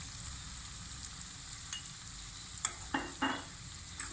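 Vegetable noodles are tossed with vinegar and soy sauce in a pan, with a faint, soft background sizzle and a few short scraping stirs near the end, quiet and close, with no voices.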